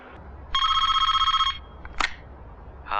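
A telephone bell rings in a loud, steady electronic trill lasting about a second, followed by a short sharp clatter and a second ring starting at the end, with no one talking.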